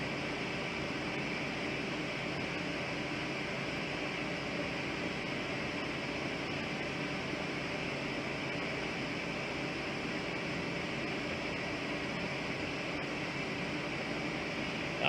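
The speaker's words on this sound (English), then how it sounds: "it'll turn on a vacuum pump which is located in the machine and it will pull it out." A vacuum pump running inside an AC recharge machine, a steady even mechanical hum and hiss holding constant throughout, moderately quiet with no talk.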